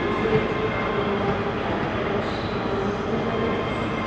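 A ScotRail Class 385 electric train pulls into a platform at Glasgow Queen Street, arriving on a terminating service from Edinburgh Waverley; a steady, close rumble of wheels and traction runs throughout with faint squeal, no voices.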